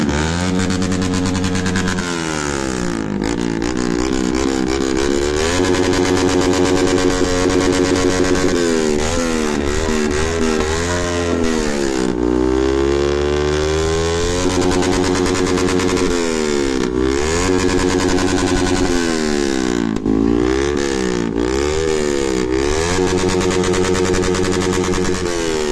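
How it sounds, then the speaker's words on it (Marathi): A single-cylinder motorcycle fitted with a double silencer runs loudly and close, its thumping exhaust rising and falling through repeated revs over a sustained idle. "सिंगल सिलेंडर डबल सायलेन्सर सोबत खूप आवाज करते ते."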